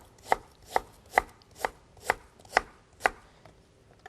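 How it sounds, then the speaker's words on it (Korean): A knife slices a pear into thin pieces on a board, making seven crisp, evenly spaced cuts about half a second apart, close and clear with no voices. "여기에 배는요 이렇게 하셔가지고 편으로 나박나박 썰어주세요"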